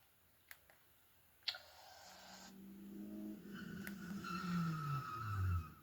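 A car skids in a drawn-out tire squeal that rises in pitch and grows louder near the end, preceded by a few sharp clicks and ticks against a quiet background.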